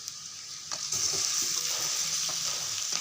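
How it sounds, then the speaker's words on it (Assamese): Broiler chicken meat stirred in a wok with very little oil over a low gas flame, sizzling steadily and growing louder after a scrape, with intermittent stirring scrapes and clatter close by. "এতিয়া মই এই মাংসখিনি দি দিছোঁ ইয়াত।"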